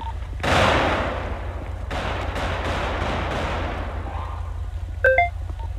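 A burst of distant video game gunfire with a booming onset and rolling echoes, followed by a few sharp electronic beeps near the end.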